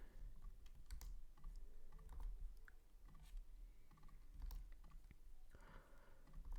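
Someone types a username on a computer keyboard, a quiet, steady run of close key clicks with brief pauses and no talking.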